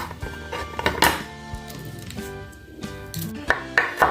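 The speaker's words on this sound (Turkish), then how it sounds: "Şeritler çıkarttığım biberleri üst üste getirip doğruyorum." Strips of pepper sliced with a knife on a board, a run of close clicks and taps with metallic clinks and a faint ringing tone, irregular in rhythm and without speech.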